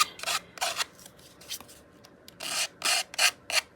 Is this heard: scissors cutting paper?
yes